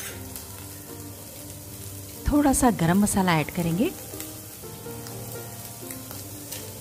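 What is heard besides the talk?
spiny gourd sabzi frying uncovered in a pan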